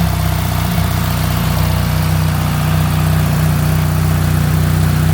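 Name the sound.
BMW R1300 GS Adventure motorcycle engine started and idling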